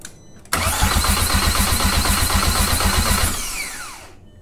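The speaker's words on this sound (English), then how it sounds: "It is cranking, I just saw the oil cap bounce around." A freshly rebuilt engine cranking on a start attempt, a loud, dense, steady starter-motor churn that kicks in abruptly, holds for about three seconds, then winds down with a falling whine.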